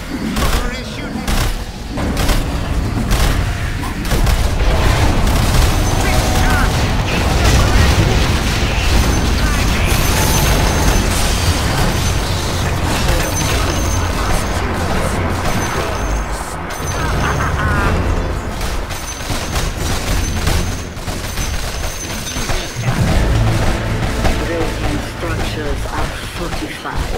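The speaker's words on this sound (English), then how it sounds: "Shooting." Gunfire in Dota 2 on PC: a long, dense stretch of busy battle noise with repeated shots and impacts layered over steady game sound, with no clear pauses.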